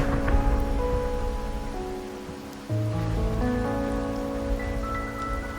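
Steady rain falls and patters on surfaces in the Wuthering Waves video game, a continuous close wash under a soft, sustained musical score with no voices.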